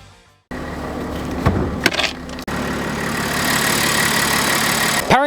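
A 2026 Audi SQ5's turbocharged 3-liter V6 with a 7-speed dual-clutch idles steadily and close, a dense continuous hum that briefly cuts out and restarts, with no one talking over it.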